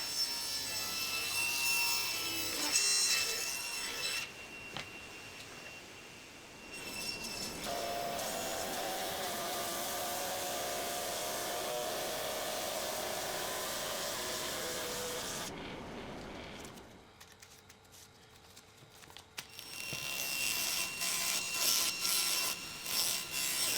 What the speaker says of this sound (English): cut some thin strips of camphor laurel to edge around the shelves